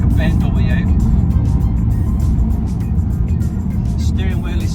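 BMW E82 driving on freshly fitted Bilstein B12 suspension, a steady close engine and road rumble running throughout with someone talking over it.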